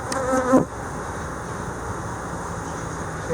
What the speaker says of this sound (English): Okay, lots of bees on there.